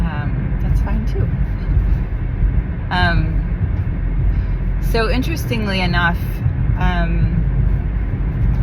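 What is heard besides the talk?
car interior road rumble while driving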